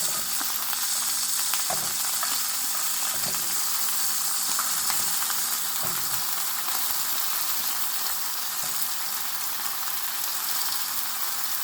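Chopped onions sauté in a hot pan for a Japanese eggplant stir-fry, giving a steady, dense sizzle that holds even throughout, with faint occasional ticks and no voices.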